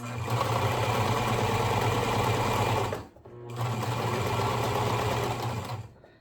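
A sewing machine stitches fabric for a scrunchie, a loud, close, steady mechanical whir that runs for about three seconds, halts briefly, then resumes for another burst before stopping.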